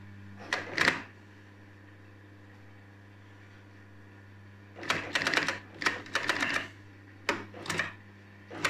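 Short bursts of a sewing machine stitching upholstery fabric for a chair seat, a quick clattering run early on, then several stop-start spurts of rapid needle hammering separated by pauses, close and fairly quiet.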